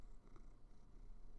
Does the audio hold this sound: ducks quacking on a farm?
no